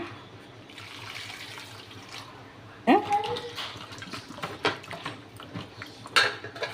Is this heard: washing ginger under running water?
yes